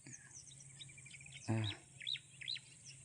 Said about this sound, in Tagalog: Ayan, yung mga ibon na marami. Ayan, maraming ibon na